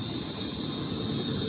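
Class 390 unit 390.107 working 1H15 London Euston to Manchester Piccadilly at Rugeley Trent Valley, a steady rail roar with faint wheel squeal and a sustained high whine, continuous and fairly close.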